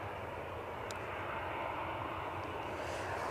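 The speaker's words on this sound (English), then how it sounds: "EasyJet to Reykjavik is on the roll" An EasyJet airliner bound for Reykjavik makes its takeoff roll at windy Edinburgh Airport, a faint, distant, steady engine roar blended with wind noise.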